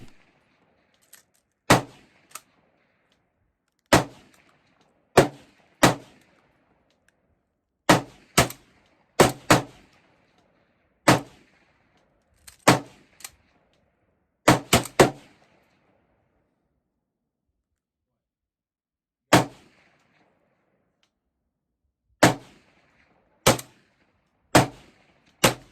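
Remington 1100 semi-automatic shotgun fired repeatedly outdoors, sharp loud blasts spaced one to three seconds apart, some in quick doubles, with a long pause midway and no talking.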